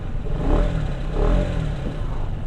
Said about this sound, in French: Là, on entend plus l'échappement